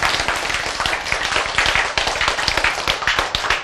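An audience at a lecture on cancer treatment claps in a brisk, even rhythm of many sharp hand claps, fairly loud and steady throughout with no talk over it.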